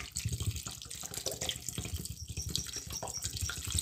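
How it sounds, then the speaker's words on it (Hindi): Water from a tap runs steadily into a cooking pot while a shami egg burger is being made, a close, continuous splashing flow. "ये पानी ऐड कर रही हूँ मैं,"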